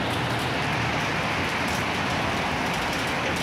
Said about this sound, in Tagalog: Lakas ng ulan, grabe.